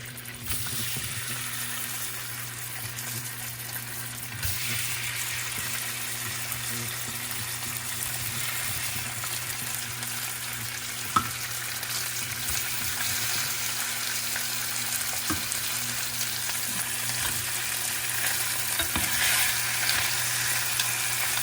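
Salmon sizzles and fries steadily in a pot on the stove, with a continuous broadband crackle and the occasional louder pop, heard close up and with no talking.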